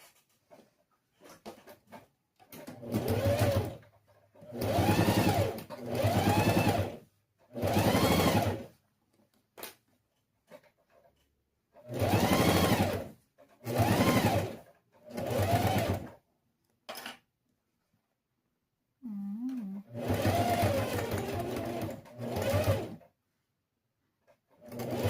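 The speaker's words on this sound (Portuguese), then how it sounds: "Vamos alinhar e costurar. Temos que costurar os dois lados." Sewing machine stitching both sides of a fabric pencil case, running in several loud bursts of rapid whirring separated by short pauses, with quiet handling sounds between and no talk.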